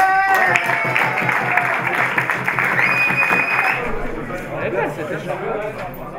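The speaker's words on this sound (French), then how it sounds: "On peut les applaudir encore une fois." A crowd claps for the winners of a tournament, with broad applause mixed with chatter and a brief whistle-like tone, the clapping thinning into murmuring voices toward the end.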